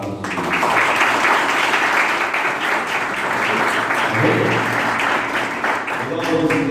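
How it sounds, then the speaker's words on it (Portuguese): Church congregation applauding the word of the Lord, sustained loud clapping from a full room with a low tone and some voices mixed in toward the end. "Uma grande salva de palmas à palavra do Senhor."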